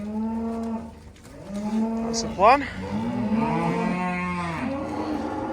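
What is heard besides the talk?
cattle mooing while being moved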